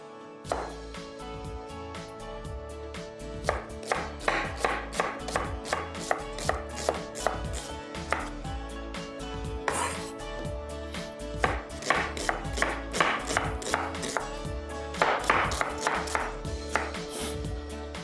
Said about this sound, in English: So this is how we cut our onion.